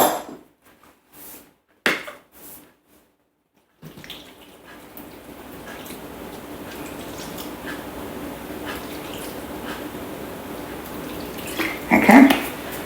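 Water mixed with chicken stock paste poured into a Thermomix bowl, a steady splashing pour that builds after a few quiet knocks and ends with a brief louder clatter.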